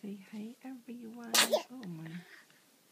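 A baby raven gives a sharp sneeze midway between short bits of cheerful talking and cooing.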